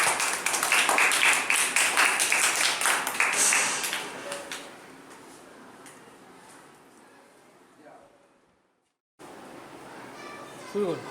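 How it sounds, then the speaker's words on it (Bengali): A classroom of students applauding for a student, a dense burst of many hands clapping together that tapers off, with children's voices mixed in. "ঈশানের জন্য এখন হাততালি হয়ে যায়।"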